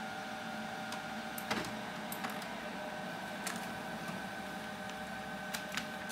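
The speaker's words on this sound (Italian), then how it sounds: "Se sua maestà stampante di merda si degnasse di stampare invece che ci sta impiegando 18 ore." An HP Color LaserJet CP2025 laser printer runs a print job with a steady mechanical hum and whir, broken by a few short clicks and ticks from the paper feed, with no voices.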